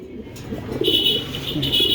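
Pigeons coo softly and close by at a pigeon seller's stall, a short low cooing phrase with a faint bird call layered above it.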